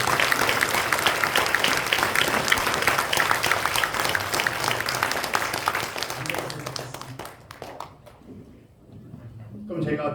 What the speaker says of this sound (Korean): 여러분 두 분을 위해서 큰 박수로